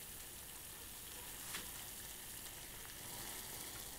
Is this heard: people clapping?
no